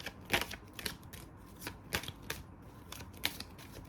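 Oracle cards being shuffled and drawn by hand, with soft papery riffles and flicks that come in irregular bursts and are heard close and fairly quiet, with no talking.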